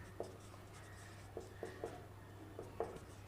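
Faint chalk or marker taps and strokes on a board in a classroom, a handful of light scattered ticks over a low steady hum, with no talking.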